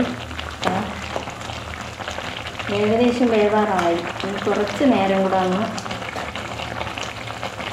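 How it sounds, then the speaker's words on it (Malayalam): Soybean curry bubbles and simmers steadily in a pot on the stove, a soft, continuous seething that sits beneath a voice as she talks through the cooking. "സോയാബീൻ കറി ഇതാ കിടന്ന് തിളച്ച് മറിയുന്നുണ്ട്."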